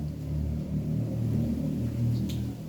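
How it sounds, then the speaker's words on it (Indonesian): Low, steady thunder rumbling through a night sermon, a continuous deep roll lasting the whole moment with no talk over it. "karena sudah ada petir, nanti kita nggak bisa pulang, hujan"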